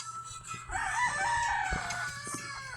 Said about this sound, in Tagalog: At kita nyo sa inyong harapan ang dalawang native chicken. Crossfeed natin sa Rhode Island Red.